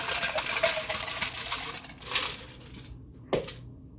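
Ice cubes dropped into a cocktail shaker, a close cluster of clinking and rattling knocks fading out, followed by one sharp hard clink after a brief pause.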